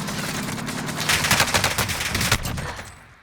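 Rapid Warzone video game gunfire rattles in dense bursts, loudest through the middle and tapering off toward the end, with no talk over it.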